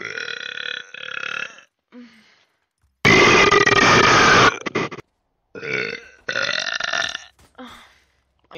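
A loud, drawn-out burp lasting over a second sits between stretches of close voice sounds, with pauses of quiet around it.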